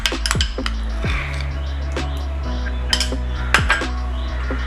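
A spoon clinks and scrapes against bowls while scooping mayonnaise, sharp metallic taps and knocks scattered irregularly through the stretch, close and fairly clear, with no voices.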